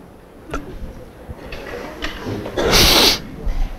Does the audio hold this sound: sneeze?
yes